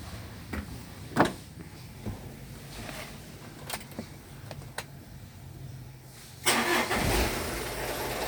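A car engine cranks and fires up right after a new battery has been fitted, preceded by a few faint clicks and knocks, then settles into a steady, fairly close idle.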